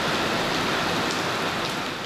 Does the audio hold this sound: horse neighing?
no